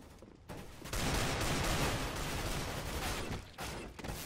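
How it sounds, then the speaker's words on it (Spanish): Dense, continuous machine gun fire from a Counter-Strike: Global Offensive match, a loud sustained rattle of overlapping shots with brief dips near the end. "el bot me estaba avasallando con la ametralladora"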